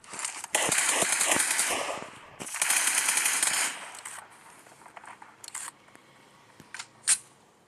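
Uzi submachine gun fired in the video game PUBG: two sustained bursts of rapid automatic fire, loud and close, then quieter scattered clicks and a short sharp crack near the end.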